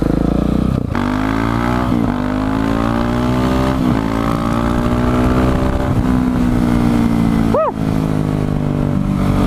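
A fast motorcycle engine drones steadily with a rising and falling pitch as the bike accelerates, close and loud throughout, with wind noise and a brief shout from the rider.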